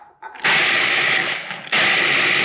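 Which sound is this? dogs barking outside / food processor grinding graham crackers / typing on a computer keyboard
food processor grinding graham crackers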